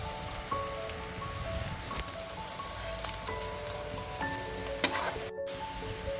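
Sliced onions sizzle in hot oil in a pan while being browned for a mutton curry, a steady crackling fry with occasional stirring clinks, close up, no one speaking.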